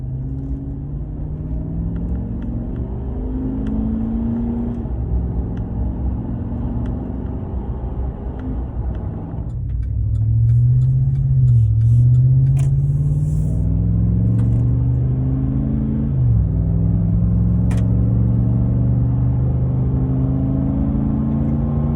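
A Chevy Silverado pickup truck with a catback exhaust and cold air intake drones with a deep steady rumble while driving, the engine note rising and falling through shifts and acceleration, heard from inside the cab.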